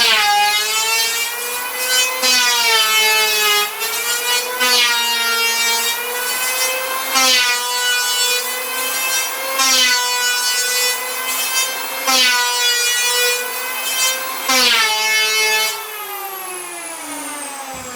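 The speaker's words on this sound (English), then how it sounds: "So I'm using an electric planer." An electric planer shaves down a curved wooden roof beam during a campervan restoration, giving a loud, steady motor whine with bright harmonics that rises and dips across repeated passes, with no talking.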